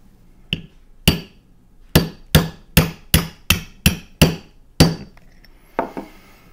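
Steel rivet setters struck with a hammer while setting leather rivets: about ten loud, sharp metallic blows in a fairly steady rhythm, each ringing briefly before the next, with no talking.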